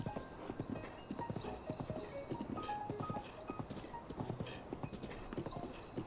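Galloping horse hooves in Zelda: Breath of the Wild, a continuous rapid clip-clop rhythm that holds close and fairly loud throughout.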